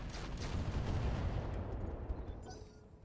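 Mech weapons firing in the modded BattleTech game, with a dense, continuous barrage of booming, rumbling shots and heavy low-end impacts carrying on steadily for a few seconds.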